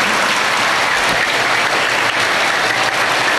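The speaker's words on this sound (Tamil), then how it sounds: "நல்லா கைத்தட்டலாம்." Audience applauding at a school celebration of Kamaraj's birthday, loud sustained clapping from a large crowd, dense and even throughout with no break.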